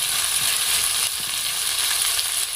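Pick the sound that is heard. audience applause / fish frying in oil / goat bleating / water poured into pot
fish frying in oil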